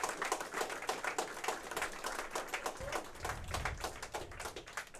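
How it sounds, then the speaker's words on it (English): An audience claps for Cash Richardson, a steady patter of moderate, somewhat distant applause lasting throughout. "A round of applause for him with"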